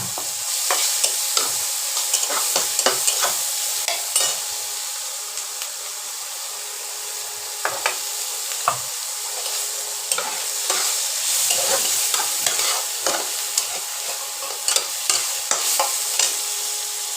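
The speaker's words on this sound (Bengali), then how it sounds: "তেল গরম করতে দিয়েছি, আদা বাটা আর লঙ্কা চিড়ে দেবো।" Ginger paste and slit green chilies sizzle in hot oil, a constant close crackling hiss broken by frequent sharp spatula scrapes and clicks throughout, no voices.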